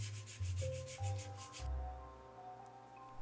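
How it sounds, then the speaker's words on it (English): The edge of a leather card holder is sanded with 220 grit sandpaper in a quick series of rhythmic rubbing strokes, about a dozen close scratchy passes, then a brief soft handling sound and quiet. "burnishing, sanding with 220,"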